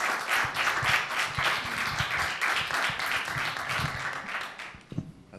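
Studio audience at a televised singing contest breaks into sustained, dense applause that holds steady at moderate loudness for several seconds, then thins out near the end.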